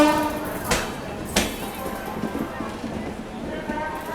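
A Gorakhpur–Asansol passenger train moves through Jasidih railway station, giving a steady rolling rumble with two sharp metallic bangs close by early on and continuing clatter afterward.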